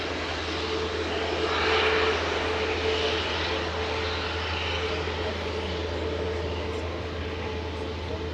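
Ryanair airliner arriving from Paris touches down on runway 05 right at Manchester Airport, a steady, fairly distant jet roar and hiss that holds evenly throughout.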